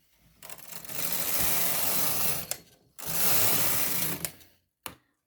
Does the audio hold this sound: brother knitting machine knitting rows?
yes